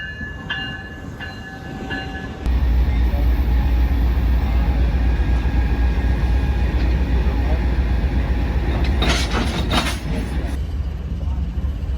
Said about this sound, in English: that, ladies and gentlemen, is how you connect two trains to head eastbound to Chicago and lose an engine